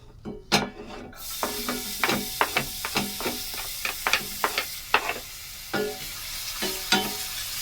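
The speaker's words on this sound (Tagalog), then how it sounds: "Lagay na natin ang bawang." Garlic sizzles and crackles in hot olive oil in a pan, with loud spitting pops and repeated stirring scrapes over a steady frying hiss, nearby and with no talk.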